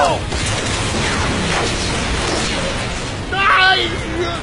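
A roaring, rumbling explosion blast from a Power Rangers Super Megaforce Megazord attack fills the scene with dense noise, swelling again near the end as shouting voices break through.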